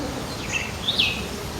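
Two brief high chirps ring out over a quiet background, a baya weaver calling twice in quick succession nearby.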